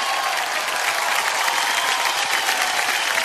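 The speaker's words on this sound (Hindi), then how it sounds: "जोरदार तालियां for ऋत्विक एंड स्नेहा।" Loud, dense clapping from a studio audience cheering a performance by Ritvik and Sneha on a televised dance show, a continuous crisp burst of applause with no talking over it.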